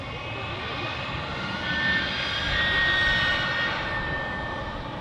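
Scandinavian airliner taxiing at Manchester Airport, a steady broad jet engine roar with a faint whine that swells slightly midway, heard alone at moderate distance.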